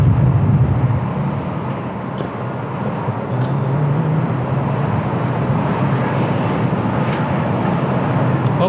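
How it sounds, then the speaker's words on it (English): An EasyJet Airbus A320-200 takes off on a windy day at Lisbon Airport, its engines a steady, broad roar that holds loud and even throughout, with wind noise mixed in. "is clear to take off. EasyJet Airbus A320"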